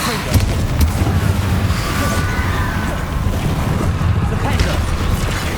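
A Confringo blasting spell fires in Hogwarts Legacy amid a dense, roaring wash of combat noise, steady and loud throughout with no single distinct impact standing out.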